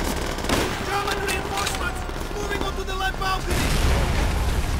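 Rapid gunfire and bursts fill a Call of Duty: World at War battle, dense overlapping shots and booms rattling close and loud throughout, with a player's voice talking over the chaos.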